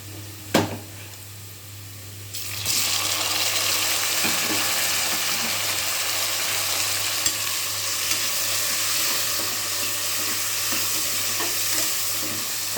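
Tomatoes hit a pan of frying onions with a sudden, bright sizzle after a soft knock, followed by continuous close crackling and the scrape and clatter of a spoon stirring, with no speech.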